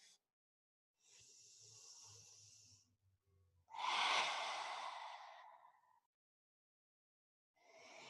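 Slow, deep breaths during a yoga stretch: a soft airy inhale, then a longer and louder exhale, then another breath beginning, close and quiet with silent pauses between.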